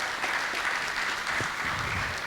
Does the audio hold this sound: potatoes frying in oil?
no